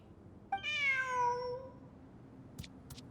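A single clear cat meow from Genshin Impact, rising and falling over about a second, close and alone against a quiet background, with a couple of faint clicks afterward.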